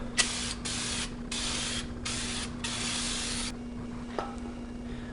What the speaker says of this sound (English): I'm going to spray down the rotor here so there's no dirt on it